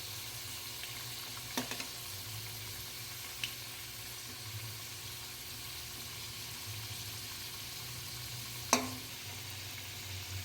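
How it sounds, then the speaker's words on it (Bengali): Potatoes fry in oil in a home kitchen, a faint steady sizzle with a low hum beneath and a few soft clinks of utensils. "আলুটা ভাজা হয়ে গেছে"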